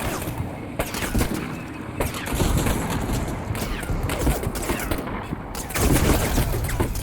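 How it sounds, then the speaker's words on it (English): Small arms gunfire in the Combat Mission Cold War skirmish game, a dense, continuous crackle of shots and bursts with heavy rumbling booms underneath, loud and unbroken throughout. "My breaching element is still taking small arms fire."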